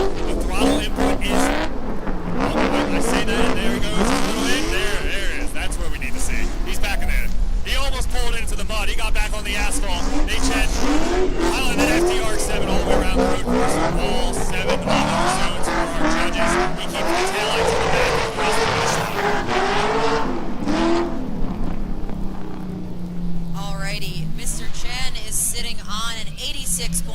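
A drift car slides through a wet-weather drift battle in competition, its engine roaring loud and continuous with squealing tires, while a commentator talks over it throughout.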